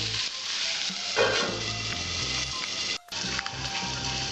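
Bitter gourd fries in a pan with turmeric, a steady close sizzle with occasional light stirring scrapes, running without talk.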